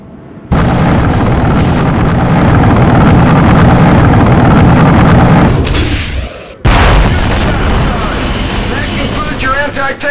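Tank cannon fire and a heavy explosion in the Conflict: Desert Storm II tank training, a loud sustained rumbling blast that cuts out briefly, then another booming burst with lingering roar.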